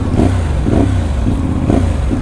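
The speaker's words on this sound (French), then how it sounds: "L'échappement fait un joli bruit." CF Moto 450MT motorcycle exhaust burbling steadily while riding, a loud low rumble with a faint rhythmic pulse repeating about every half second, no voices.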